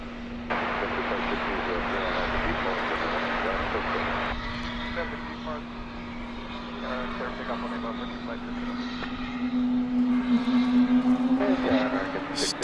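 A Frontier airliner on a flight to Denver at DFW airport gives a steady, droning engine hum throughout, with a voice talking over it and the noise swelling slightly near the end.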